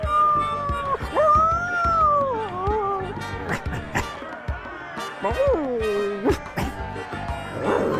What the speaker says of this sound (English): the grunts and barks the dog makes does actually make some sort of sense